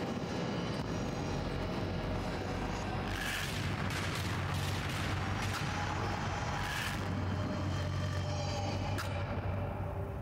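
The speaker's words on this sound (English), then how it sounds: "Missiles." Missile explosions in a video game set in an art gallery, a dense, continuous roar of booms and blasts with sharp cracks flaring up every second or two, loud and unbroken throughout.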